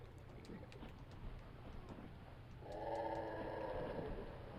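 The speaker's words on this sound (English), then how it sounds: "it's like a slow motion or slowed bird noise" A slowed, low, drawn-out bird-like call in the Sherlock Holmes: Crimes and Punishments video game, a sustained warbling tone rising in over a steady coastal background rumble in the second half.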